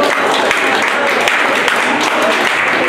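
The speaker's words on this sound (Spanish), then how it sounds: "un aplauso a la señora," An indoor audience bursts into dense, loud applause honoring a former Mexican tennis player, sustained clapping without pause from start to finish.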